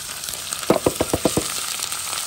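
Onions frying in a pan for rougail morue give a steady close sizzle, with a quick run of six soft rhythmic stirring scrapes in the middle.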